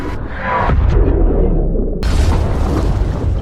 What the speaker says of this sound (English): Finally, the torpedo hit Volkov's submarine, causing it to explode.